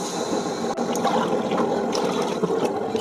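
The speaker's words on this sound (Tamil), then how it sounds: "இதில் 3 வழக்கு தண்ணி ஊற்றிக்கிறேன்." Water is poured into a pot of rice for quail biryani, a continuous splashing trickle lasting a few seconds, close and moderately loud with no talking.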